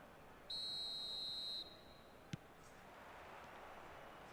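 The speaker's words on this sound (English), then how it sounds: "There's the whistle." A referee's whistle in an eFootball match blows one steady, shrill blast of about a second over low crowd noise, followed by a single sharp click.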